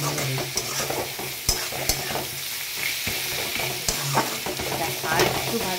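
Onions sizzle in hot oil in a pan as a utensil stirs them, steady frying hiss broken by sharp scraping knocks, close and fairly loud with no talking.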